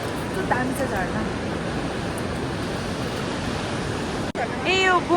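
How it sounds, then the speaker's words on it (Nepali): A waterfall on the trek to Tilicho Lake in Manang, Nepal, roars as a loud, constant broadband rush, with brief voices audible over it near the start and end. "ए यो बुम झरना रहेछ"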